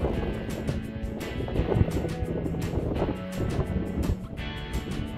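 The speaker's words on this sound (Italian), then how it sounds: "Tanto vento per salire lo Spadolazzo" Strong wind gusts buffet the microphone on a high alpine climb toward Pizzo Spadolazzo, roaring steadily with rising and falling surges close up.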